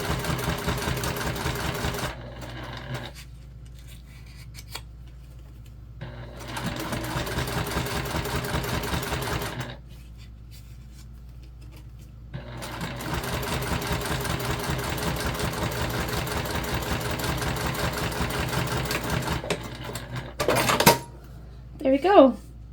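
A sewing machine runs in several sustained bursts, top stitching a bag panel an eighth of an inch from the edge, with short pauses between runs and a brief clatter near the end.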